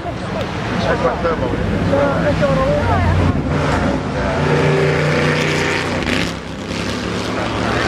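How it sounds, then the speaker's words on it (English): A McLaren Chevrolet M8B race car passes loudly at a hill-climb motorsport festival, its engine roar swelling and fading under continuous commentary and wind buffeting on the microphone. "just gone past our commentary box, the famous McLaren Chevrolet M8B"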